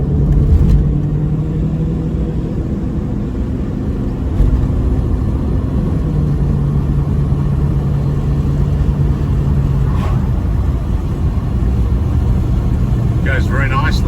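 A Ford EB2 Fairmont Ghia V8 engine rumbles low and steady throughout, with voices now and then over the running motor.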